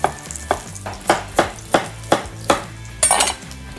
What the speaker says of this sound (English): Chop these nice and rough, but again of a similar size so they cook at the same time